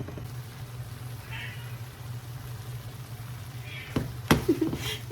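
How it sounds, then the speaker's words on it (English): A cat meows a few times in the background, faint and brief, over a steady low hum from a kitchen where zucchini steams in a pan, with a couple of sharp knocks near the end. "You can hear my cat in the background."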